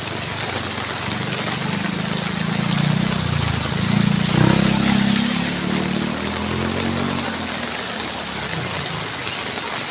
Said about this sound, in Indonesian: Hujan deras Sukabumi mengakibatkan banjir teman-teman ya.